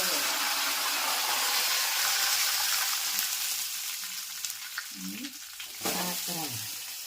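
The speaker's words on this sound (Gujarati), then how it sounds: "સરસ મજાના પાત્રા વઘાર ચાલુ થઈ ગયો છે આપ જોઈ શકો છો જીરું અને સફેદ તલ" Patra tempered in hot oil with cumin and white sesame seeds produces a steady, loud sizzle and crackle close by. The sound eases toward the end, where brief murmurs of a voice appear.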